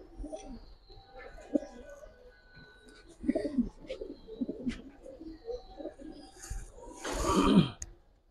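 Old-breed pigeons, Giribaz and coloured fancy pigeons in a large home collection, coo softly in low rolling bursts with scattered faint chirps and rustling, ending in a louder breathy flutter, with no clear talk over them.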